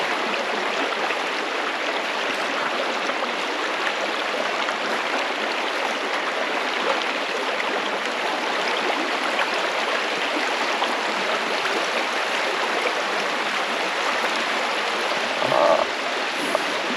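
A Missouri creek flows steadily over its bed, a broad, even rush of water held at a constant moderate level, with a faint brief chirp late on.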